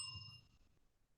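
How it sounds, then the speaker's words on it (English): A handheld bell rung once for a sound check at the start of a debate, giving a bright ding that decays over about a second, with no talking. "We will ring the bell."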